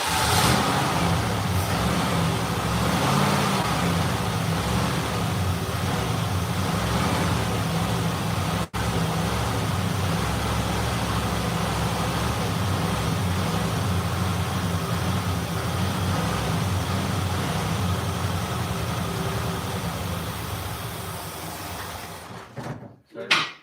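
An engine with milky oil runs for a long, steady stretch with a broad mechanical drone and some revving, close by, then cuts off near the end, with people talking over it.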